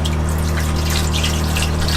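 Liquid poured down an Airstream trailer drain during winterizing, a steady, close rushing gush of water draining away, continuous and even throughout with no voices.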